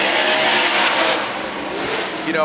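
A Pennzoil BC Racing Mustang RTR Spec 5 FD drift car initiates a drift, its engine roaring loud and sustained with tire noise mixed in, a faint voice partly buried under the din.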